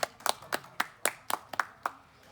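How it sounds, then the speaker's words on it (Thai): A small group claps briefly for two teachers after a Thai herbal compress demonstration; about nine distinct, sharp claps in a loose uneven rhythm, close and fairly quiet, with no talking. "ขอเสียงปรบมือหน่อยครับทั้งสองท่านนะครับอาจารย์ทั้งสองท่าน"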